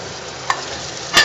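Potatoes frying in hot oil make a soft, steady sizzle in a pan, with two brief brighter bursts of sizzle, one near the end.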